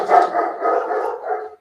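A dog gives a single drawn-out bark or howl outdoors, fairly loud and clear, lasting well over a second before fading out, with no talking.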